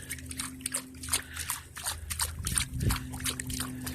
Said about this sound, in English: just going to start splashing like this with one foot